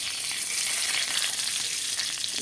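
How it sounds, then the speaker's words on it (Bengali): Dry red chillies and panch phoron spluttering in hot oil for a Bengali sour-sweet amra chutney, a loud, dense, continuous hiss of frying heard up close with no voices. "এবার দিয়ে দেবো ফোড়ঙে দুটো শুকনো লঙ্কা আর এটা পাঁচ ফোড়ং"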